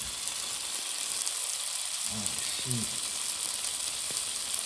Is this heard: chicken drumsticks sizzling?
yes